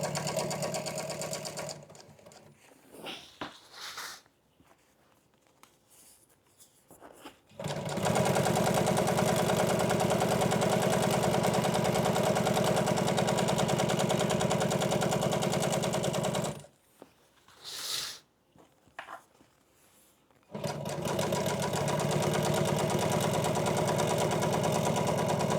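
A sewing machine stitches dark blue vinyl with black thread for an old-school welted boat cushion, running in two long, steady whirring bursts separated by quiet pauses and brief stop-start stitching.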